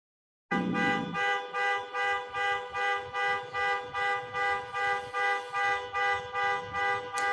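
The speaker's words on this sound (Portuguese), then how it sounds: "Se você não ouviu essa buzina, Marcelão, meu Deus." A vehicle horn blares in a long series of rhythmic, evenly pulsing tonal honks, loud and close, repeating roughly twice a second with no talk over it.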